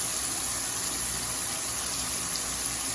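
Water being poured into a hot pot for Spanish rice, a loud steady hissing, sizzling rush that fills the moment without pause.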